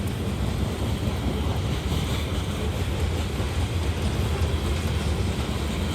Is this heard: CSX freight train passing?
yes